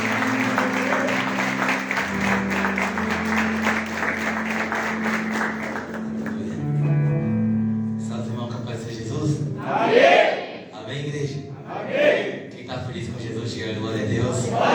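A church congregation applauds in steady, dense clapping during a Portuguese-language worship service. The clapping fades after about six seconds and a voice follows.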